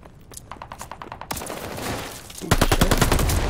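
Dense automatic gunfire from a video game shooter in a ranked Control match, rapid bursts that grow louder and fuller toward the end, with no talking over it.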